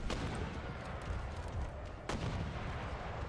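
Gunfire in an Empire: Total War battle: distant musket and cannon shots crack over a continuous low battlefield rumble, with one sharp report early and another louder crack near the two-second mark, no talk.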